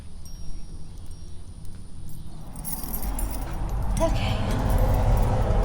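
Keys to a newly bought house jingle and clink in hand as a door is approached, bright metallic rattles over a rising rumble of footsteps and handling noise, with a brief spoken word.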